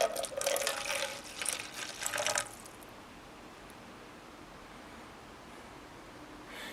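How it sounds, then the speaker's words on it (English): Oil catch can liquid poured from a BMW E36 into a paper Taco Bell cup, a close splashing trickle for about two and a half seconds that then stops, leaving quiet room tone. "So I'm going to pour it inside of this Taco Bell cup and see what it looks like"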